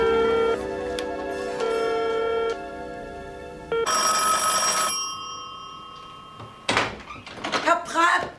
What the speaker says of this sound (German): Herr Prack, Telefon!